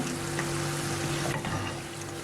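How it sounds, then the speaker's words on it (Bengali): Shitabhog sweets fry in a pan of oil while being stirred, giving a steady, dense sizzle with faint scraping throughout, close and continuous with no voices. "আর এই মিষ্টিগুলোকে কিন্তু একটু নেড়ে চেড়ে ভাজতে হবে"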